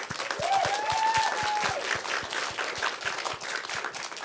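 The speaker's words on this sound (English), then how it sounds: "We got to give a round of applause for them." An audience at an after-school talk with Blue Sky Studios animators gives a lively round of applause, steady dense clapping throughout with a few whistles rising over it.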